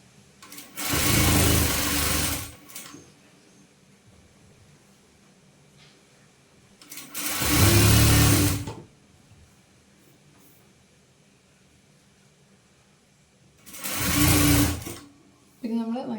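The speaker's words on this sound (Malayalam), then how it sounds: "അതുകൊണ്ട് ഇങ്ങനെ സ്റ്റിച്ച് ചെയ്യും" A sewing machine stitching kurti fabric runs in three separate bursts of steady whirring, each lasting about two seconds, with quiet stretches between them.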